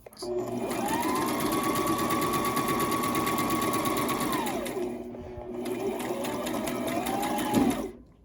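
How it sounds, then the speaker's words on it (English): A sewing machine stitches a pocket shut on an A-line overgarment duster, running steadily for about four seconds, pausing briefly, then whirring again in a second close, even run. "we are almost done sewing the pocket"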